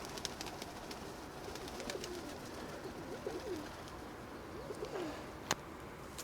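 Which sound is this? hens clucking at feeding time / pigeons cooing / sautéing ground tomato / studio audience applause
pigeons cooing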